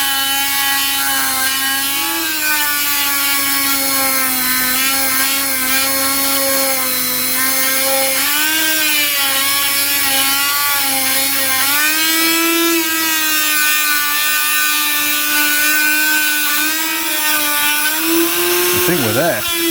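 Dremel rotary tool grinding on an International 434 tractor steering box, a loud, continuous high-pitched whine that wavers in pitch as the load shifts, running the whole time up close.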